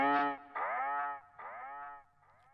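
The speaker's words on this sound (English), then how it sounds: "Next up is the Blanca chant, which is from Street Fighter." A processed chant sample from the Street Fighter video game, Blanka's call, rings out as three drawn-out harmonic vocal phrases with falling pitch, drenched in echo and effects, standing alone with no talk.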